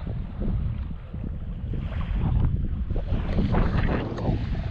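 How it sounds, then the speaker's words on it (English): Low engine drone of a small boat on the Thames Estuary at Egypt Bay, Kent, mixed with gusty wind buffeting the microphone, steady and fairly close. "See a little boat going over."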